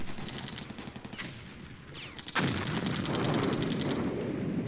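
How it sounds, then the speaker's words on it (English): Artillery barrage in the wargame Flashpoint Campaigns Red Storm, a run of muffled distant thumps and crackling impacts that swells into a dense, loud rumbling volley in the second half, with no talk. "Got some artillery fire."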